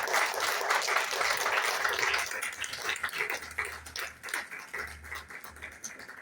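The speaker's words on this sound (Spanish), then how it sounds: "¿Cuántos pueden darle un aplauso al Señor Jesús?" A church congregation applauding during a sermon, a dense, lively round of clapping that starts full and gradually thins and tapers off toward the end, with no one speaking over it.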